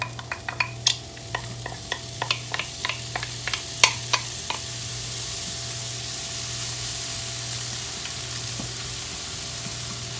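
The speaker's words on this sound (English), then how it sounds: "And I'm gonna go ahead and add the leeks." Leeks for a ham and Gruyere cheese frittata hit a hot pan, sizzling steadily while a utensil stirs them with a run of sharp scraping clacks that fade into a continuous soft frying hiss.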